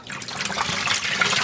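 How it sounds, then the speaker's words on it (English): Wet dyed wool roving is gently squeezed by hand, releasing a soft continuous trickle and splash of dye liquid, close and steady. "I'm just gently squeezing out some of that liquid"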